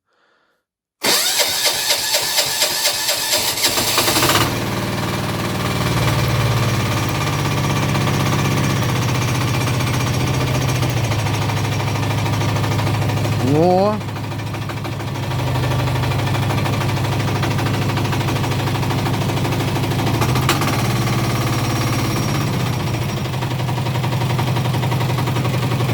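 A small diesel walk-behind tractor engine cranks with rapid hard knocks, then catches and runs steadily at a loud, close chugging idle that continues for a long stretch.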